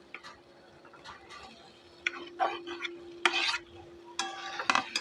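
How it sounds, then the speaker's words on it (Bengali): Potatoes and pointed gourd are stirred and fried with spices in a pan, with intermittent scraping strokes of a spatula over a faint sizzle and a steady low hum, the strokes coming in irregular bursts. "আলু আর পটলটা মশলার সঙ্গে ভালো করে কষিয়ে নিয়েছি"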